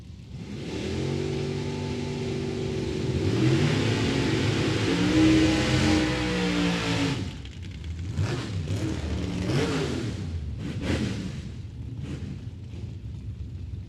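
Drag race cars at Mid Michigan Motorplex launching with loud, sustained engine roars and rising revs that hold for several seconds, then break into rapid gear-change bursts as they accelerate away down the strip.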